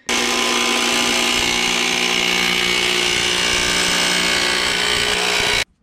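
Power tool cutting a thin plate of cheap pot metal for a homemade bracket on a Honda CRX, a loud continuous high-pitched grinding whine held steady for about five and a half seconds before stopping abruptly.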